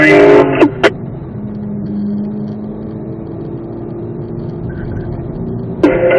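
A Corvette Z06 engine drones steadily at a racing school lap on track, a continuous close engine hum with short sharp bursts near the start and end.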